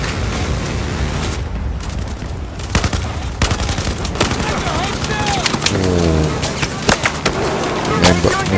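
Battlefield 4 gunfire crackles in dense, rapid bursts throughout, with booming shots and intense battle noise close and loud; someone speaks briefly over the fighting.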